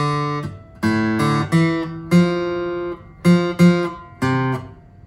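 An acoustic guitar plays the second line of a song as a string of about eight close, clearly picked notes in two short phrases, each ringing briefly before the next, with no voice over it.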